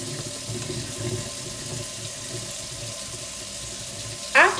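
Tap water runs steadily into a sink during hand washing with soap, a soft continuous stream throughout with a couple of brief louder splashes near the end.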